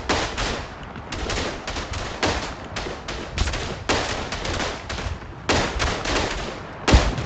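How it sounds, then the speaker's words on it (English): Rapid gunfire in the Verdun World War I shooter, repeated close rifle and machine-gun bursts cracking in irregular volleys throughout, with no talk over them. "I'm getting shot from that side."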